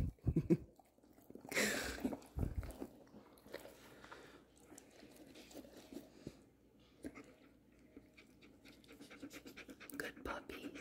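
Older pet dogs panting close by, a quick rhythmic breathing that comes and goes alongside faint chewing and scratching sounds. Someone talks softly over parts of it.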